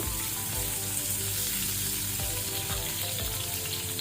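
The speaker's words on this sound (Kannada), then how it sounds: "ಇದನ್ನು ಸ್ವಲ್ಪ ಕೆಂಪಾಗೋ ತನಕ ಫ್ರೈ ಮಾಡ್ಕೊಳ್ಳುವ" Curry leaves sizzle and crackle in hot oil, a continuous close frying hiss with a few soft knocks.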